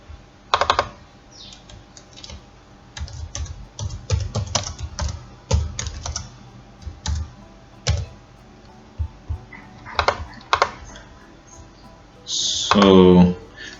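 Quick typing on a computer keyboard in short clusters of clicky keystrokes with pauses between, close and fairly loud, ending in a brief burst of sound near the close.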